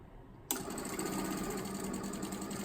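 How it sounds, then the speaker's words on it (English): Quilting sewing machine running steadily as it stitches a quarter-inch seam, a continuous close whirring hum that starts abruptly after a brief quiet moment and holds at an even level. "And then stitch that 1/4-inch seam one more time."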